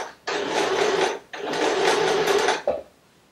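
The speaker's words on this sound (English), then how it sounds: "So put your needle down, and all you're going to do is do a gathering stitch." Sewing machine running a gathering stitch on fabric for an off-the-shoulder top, two steady whirring bursts of rapid needle motion, close and loud, with a short pause between and no talk.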